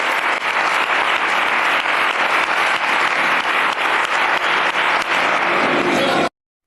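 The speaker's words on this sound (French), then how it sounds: "Applaudissements." A large audience applauds at length, a loud unbroken wash of clapping that runs steadily for several seconds and then cuts off abruptly.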